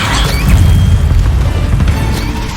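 A Bombarda spell explodes in Hogwarts Legacy, a heavy booming blast with deep low rumble sustained across the moment, loud and close with crackling debris layered on top.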